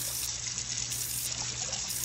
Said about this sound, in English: you pour all that rice water off